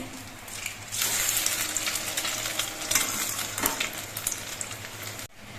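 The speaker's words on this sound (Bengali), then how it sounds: "এক পিঠ কিছুক্ষণ ভাজা হওয়ার পর উল্টে দিচ্ছি" A slice of bread frying in oil with chopped onion on top, flipped partway: steady close sizzling and crackle with a sharper burst and clatter near the start, continuing without speech.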